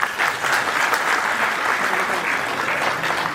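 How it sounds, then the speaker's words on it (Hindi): Sustained applause from a crowd inside the Bihar legislative assembly, dense steady clapping holding at an even level throughout without a break. "मुझे लगता है कि तालियों की धुन थोड़ी कम पड़ रही है।"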